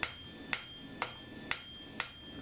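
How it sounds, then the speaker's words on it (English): A hammer strikes steel on a nail header in five evenly spaced, ringing metallic blows about half a second apart, each with a short bright ring fading before the next. "Again, this hammer's no good."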